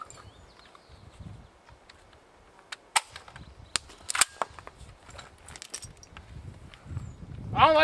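Gun shots fired outdoors on the Fourth of July, a few sharp loud cracks spaced irregularly amid quieter handling noise, with a louder burst near the end.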